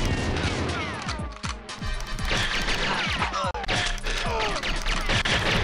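Rapid gunshots from GoldenEye 64 on the Nintendo 64 crack and smack into walls in a dense, continuous barrage, loud and close, with no talking.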